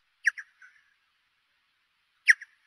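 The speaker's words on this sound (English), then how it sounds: "He's emitting these chirps and then he's listening" A bat's echolocation chirps, slowed to be audible, come as a quick cluster of sharp squeaky calls, then a pause and another brief burst, clear and isolated against silence.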